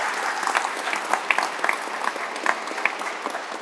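Crowd applause at an inauguration held at an aeronautics museum in Saint-Victoret, with sustained clapping from a room full of people and a few sharper individual claps standing out.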